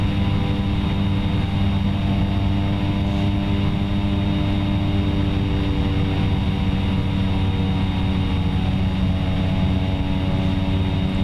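Steady propeller aircraft engine drone in the X-Plane 11 flight simulator during a climb, loud and continuous with a constant tonal hum and no talk.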